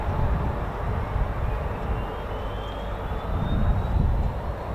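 Italian Air Force Eurofighter Typhoon jets taxiing at RAF Coningsby give a steady, distant jet engine rumble with a faint rising whine, continuous and even in level throughout.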